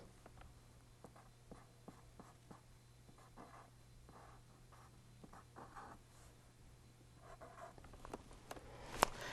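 A pen scratches and taps across paper in quiet, irregular short strokes, faint and close, growing a little busier toward the end with no voices.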